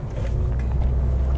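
A Mercedes-Benz A-Class drives on a twisty, almost mountainous road in sport mode, its engine and tyre noise forming a steady, loud interior drone with no speech.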